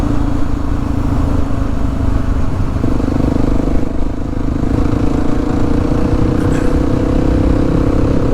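A Kawasaki KLX 300 motorcycle engine runs loud and steady at close range, a constant throbbing idle with a slight rise in pitch partway through, no voices.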